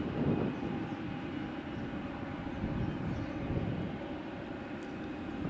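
Airliner taxiing out to runway 05 at Madeira Airport, a low, steady engine rumble heard at a distance with a faint constant whine above it and no voices.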